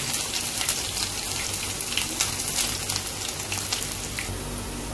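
Onion sizzles in a hot pan with spices for baingan bharta, a steady close crackle of frying with scattered pops, without any talk.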